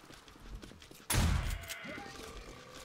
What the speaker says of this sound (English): I think I need to let them get a little bit closer to me before I start shooting them